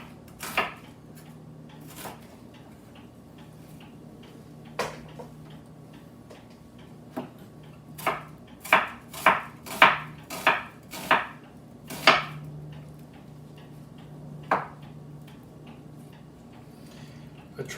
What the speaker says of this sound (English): I like to sliver my onions so they're nice and fine